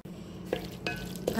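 Spices stirred in a frying pan for mushroom biryani, with a soft sizzle and three brief scraping strokes of a spoon against the pan.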